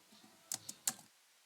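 A few quiet, crisp keystrokes on a computer keyboard while entering code, three or four distinct clicks in a short burst heard close against near silence.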